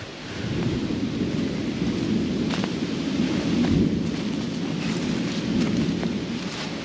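Steady rumbling thunder from an approaching storm rolls on in a Georgia woodland camp, with a broad low roar and occasional crackles over roughly seven seconds and no talk.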